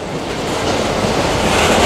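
A GE ES44ACi locomotive arrives with a Suzano train on a Brazilian export rail corridor, its loud, broad rumble building steadily and close by, with no voices.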